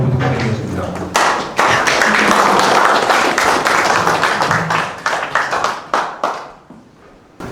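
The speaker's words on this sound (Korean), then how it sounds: "교수님에게 열렬한 환영의 박수 부탁드리겠습니다." Warm welcoming applause from an audience at a Confucian school lecture, sharp hand claps that swell into a full round, then thin out into scattered final claps and fade.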